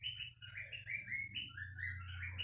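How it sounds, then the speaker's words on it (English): A pet bird at home gives a quick run of close, bright chirps and tweets over a low steady hum, with no talking. "It's my bird."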